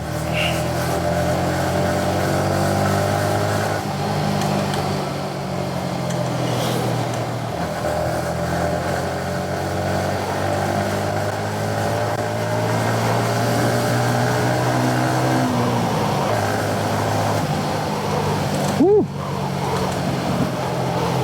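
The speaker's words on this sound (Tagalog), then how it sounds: "Malakas tong motor na to" A steady Yamaha XSR 155 motorcycle engine drone runs throughout at an even pitch, loud and close, with a brief sharp tone near the end.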